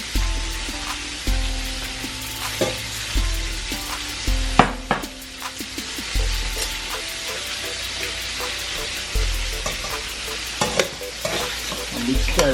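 Two cups of rice fry in butter and oil, a steady close sizzle broken by repeated stirring scrapes and clatters through the whole stretch, with no talking.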